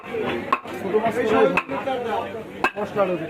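A knife chops a Katla fish into pieces, with sharp irregular impacts on a cutting surface close by while a person talks throughout.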